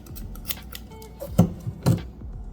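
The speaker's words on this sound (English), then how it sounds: "Snip off at the base." Scissors snip through crochet yarn at the base of an amigurumi heart plushie, two close crisp cuts sounding alone in a quiet room.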